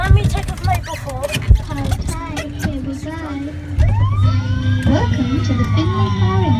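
A Bandai Namco Amutec Finley the Fire Engine kiddie ride plays its siren wail and ride sound effects loudly and up close, with electronic music, rising and falling tones, and a voice talking over much of it.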